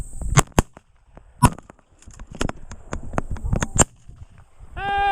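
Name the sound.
shotgun shot at a pheasant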